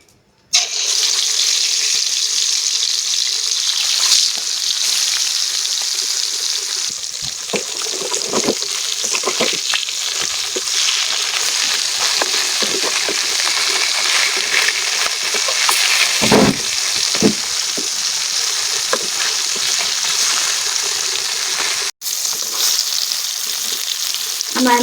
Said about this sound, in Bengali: এখন আমি মাছ ভাজবো